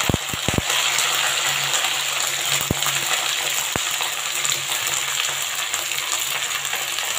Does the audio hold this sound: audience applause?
no